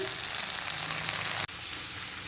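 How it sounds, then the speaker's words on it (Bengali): Radish greens (mulo saag) stirred in a hot pan, a steady close sizzle and frying hiss with a brief break partway through. "এই দেখুন নেড়ে দেখাচ্ছি আপনাদের"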